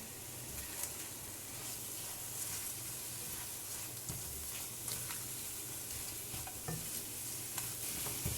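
Ginger chicken sautés in ghee with a faint, constant sizzle, broken now and then by soft spoon stirs against the pan, with no voices.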